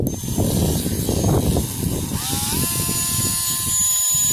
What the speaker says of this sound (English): That's why I'm using my little Dremel now.